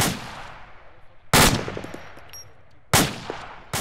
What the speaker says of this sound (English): Slow rate of fire.